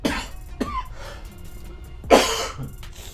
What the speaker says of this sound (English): Sorry about me coughing